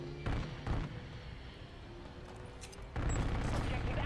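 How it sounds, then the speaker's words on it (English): Bursts of automatic gunfire from a VTOL killstreak in Modern Warfare 3, heavy rapid volleys at the start and again near the end with a quieter rumbling stretch between. "I just love hearing the VTOL go to work."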